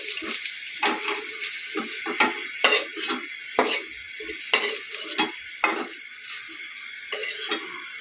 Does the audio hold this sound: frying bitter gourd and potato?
yes